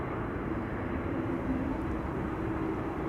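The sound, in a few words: Icelandair Boeing 767 taxiing at Amsterdam Schiphol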